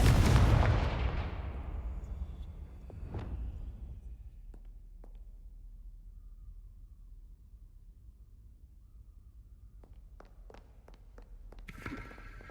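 A Confringo blasting spell goes off in Hogwarts Legacy, a loud booming explosion at the start that rumbles and fades, followed by a second sharp blast and scattered pops and clicks, then a quick flurry of sharp hits near the end.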